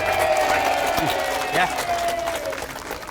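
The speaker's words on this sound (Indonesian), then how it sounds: "Tepuk tangan dulu yuk" Audience applause rises as a steady wash of clapping from a studio crowd, with a voice speaking briefly over it and a sustained tone running underneath.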